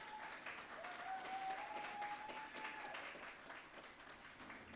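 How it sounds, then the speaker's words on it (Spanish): Faint, distant applause from a church congregation at a prayer service welcoming prize winners, a soft continuous patter that swells slightly in the middle and then eases off. "Con un fuerte aplauso los vamos a recibir."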